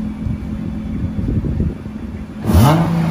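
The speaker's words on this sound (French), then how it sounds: "Mets un coup de gaz, Fabrice." Nissan GT-R engine idles with a low rumble, then a short blip of throttle sends the revs rising sharply before settling, loud and close.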